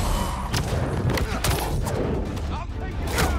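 Gunshots in Spider-Man 2, several sharp cracks spaced irregularly over a dense bed of game noise and combat thuds, fairly loud and close.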